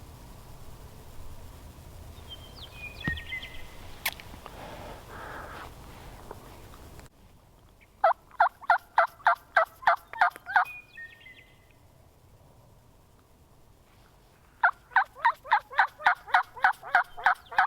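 Wild turkeys gobble on public land during a spring hunt, heard from a slash-pile blind: two bursts of rapid, rattling gobbles, the first around eight seconds in and the second near fifteen, each loud and fairly close, over quiet woods with a faint earlier call.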